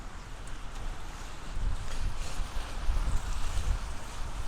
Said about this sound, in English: It is pretty windy today